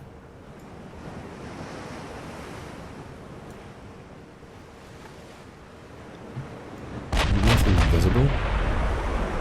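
Heavy battleship guns firing in a naval combat game, a sudden loud booming salvo erupting near the end over a steady roar of ocean waves and wind.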